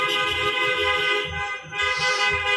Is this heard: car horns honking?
yes